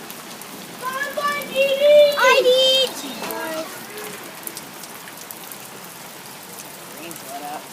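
Rain falls steadily on surfaces around a flooded yard, a continuous soft hiss heard throughout while a voice and other talk rise over it in the first few seconds.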